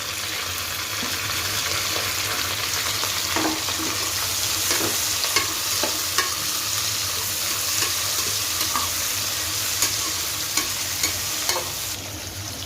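Thinly sliced onions frying in hot oil and ghee for jackfruit biryani, a loud steady sizzle with scattered scraping stirs and small crackles throughout, no voices.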